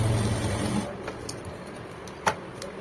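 A sewing machine stitches a sleeve in a brief, close whirring run of under a second, then stops, leaving a few faint clicks and one sharper tap.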